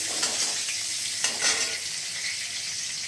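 Green chillies and capsicum frying in a pan for chilli cauliflower, a constant close hissing sizzle with occasional stirring scrapes and no talking.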